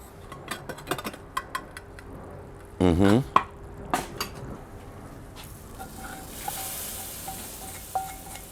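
Ingredients tipped into a pot of okra beef stew, a short loud clatter and splash at the center amid softer scattered kitchen knocks and light stirring, with faint sizzling in the background.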